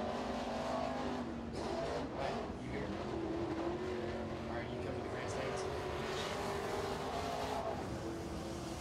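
A crate race car laps Crossville speedway in qualifying, its engine note rising and falling as it circles the track at a distance, while an announcer talks over the noise.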